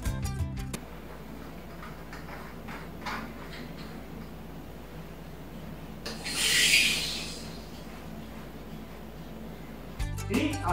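Gas charger screwed into an upside-down kitchen whipping siphon, faint ticking and rubbing turns followed by a loud hissing rush of gas for about a second, then quiet, nearby and with no talking.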